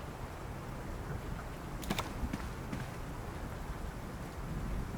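Steady, even rain hiss fills a dark city of endless night and constant rain in the game World of Goo 2, a continuous wash of drops with no voices over it.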